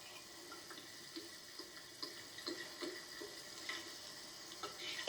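White wine poured into a pan of cooking onions, a quiet steady liquid wash with faint sizzling and soft clicks, no talk over it.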